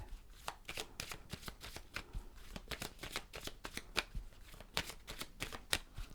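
A Dreaming Way Lenormand card deck shuffled continuously, with fast, close, rhythmic riffling bursts of cards slapping together.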